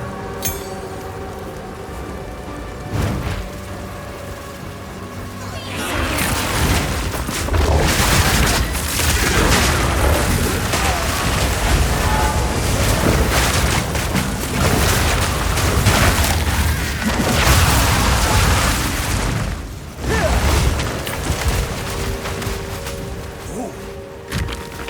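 Storm with thunder and explosions in the Path of Exile 2 action game: a quieter rumbling opening, then a sustained roaring wall of crashing booms and crackling blasts, briefly dipping before continuing at lower intensity.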